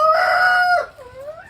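A rooster crows loudly and close by, one long drawn-out call that trails into a shorter rising note.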